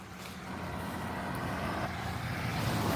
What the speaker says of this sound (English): There's a UPS truck coming.